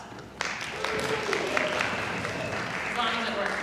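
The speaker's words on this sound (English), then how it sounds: "Round of applause." Applause from an audience at a prevention summit rises and holds steady, a dense wash of clapping at moderate distance with some talking mixed in.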